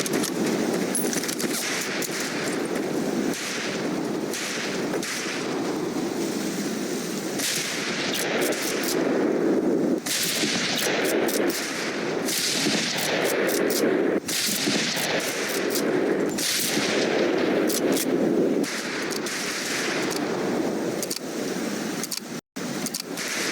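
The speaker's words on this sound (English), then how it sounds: "Conlon, Hayes, we have 2 scoped rifles available for use today." Scoped rifle shots fired at long-range targets in the video game Medal of Honor: Pacific Assault, sharp reports at irregular intervals over a dense, loud bed of continuous battlefield rumble and distant gunfire.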